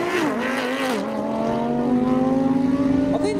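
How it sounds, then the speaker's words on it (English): Nissan GT-R and a supercharged Lamborghini Huracan Spider launching side by side in a drag race, loud engines rising steadily in pitch as they accelerate away, alone without talk. "Here we go, launch control."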